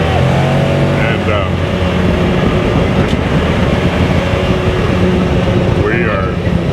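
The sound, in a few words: 2021 Can-Am off-road vehicle driving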